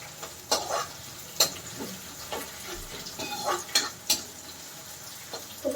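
Onions fry in a pan with a steady sizzle, broken by repeated sharp clinks and scrapes of a utensil stirring against the pan, close and continuous with no talking.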